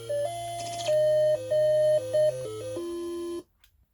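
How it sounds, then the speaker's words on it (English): Mario Bros starts up on a DIY arcade machine with a bright chiptune melody of square-wave notes over a bass line, loud and close, stopping abruptly after about three and a half seconds. "And I start the game."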